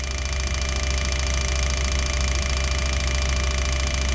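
A set of V12 Jaguar fuel injectors runs a flow test on a bench at just under 3 bar, producing a constant, dense mechanical buzz and rapid clatter that holds steady throughout with no voices.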